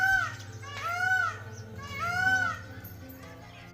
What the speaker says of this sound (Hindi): हमने काफ़ी टाइम वेट किया था मोर की आवाज़ को रिकॉर्ड करने के लिए